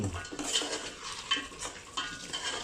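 Chicken soup with herbs is stirred in a pot, with a soft continuous swirling and bubbling broken by a few light scrapes and clinks of a spoon, close and moderately quiet.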